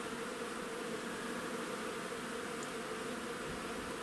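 Honeybees on a hygienic bottom board in a hive treated in an electric varroa experiment drone in a steady, dense hum that holds evenly for the whole stretch with no pauses.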